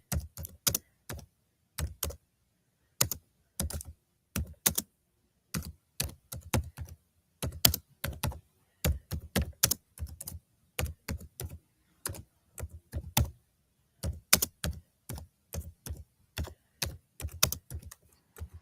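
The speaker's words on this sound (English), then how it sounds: "are you typing? Uh-huh. Why? Typing one-fingered." Someone types on a computer keyboard with one finger, slow irregular clusters of crisp key clicks separated by pauses, close and quiet with no talking.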